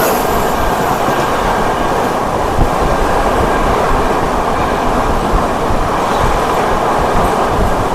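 Goa Express train passing another train on a curve near Belwandi station in the rain, a loud continuous rumble and rushing roar heard from aboard, with no talk.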